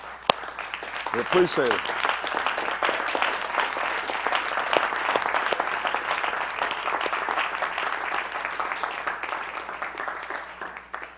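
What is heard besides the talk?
hand clap for Miss Yahuah in church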